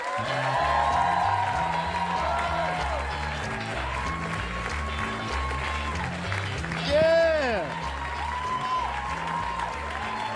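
A comedy club audience claps and cheers loudly for a stand-up comedian, with a burst of whoops partway through and a voice shouting excitedly over the applause.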